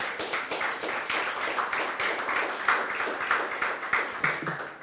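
Steady applause from an audience at the media launch of a Grenada rugby sevens event, a dense, continuous patter of many hands clapping at moderate volume throughout, with no break.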